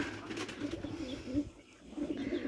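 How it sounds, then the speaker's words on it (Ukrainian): Pigeons coo softly in low, rolling calls on a village farm on a hot morning, repeating over a faint background hiss, somewhat distant. "Голуби закинула теж, ну, порозліталися."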